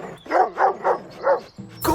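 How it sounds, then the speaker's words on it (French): Fierce mastiffs bark in a run of four deep, gruff woofs at an even pace, loud and close, followed by a shorter yelp at the end. "on vous envoie ces féroces molosses à vos trousses"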